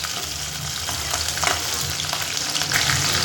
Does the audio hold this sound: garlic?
yes